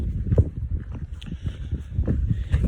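Breeze gusting across a hillside walk above a valley with a small stream, rumbling steadily into the microphone in low buffeting bursts, with faint footsteps underneath.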